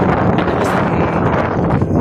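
Strong wind with heavy rain on Jomalig Island, a loud, constant roaring buffet of gusts against the microphone, with no break across the whole moment.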